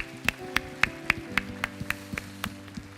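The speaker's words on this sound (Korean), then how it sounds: "하나님 앞에 박수로 영광을 돌려드리십시다." A church congregation claps at a Korean Sunday worship service, a run of sharp, evenly spaced hand claps, close and distinct, slowing slightly toward the end.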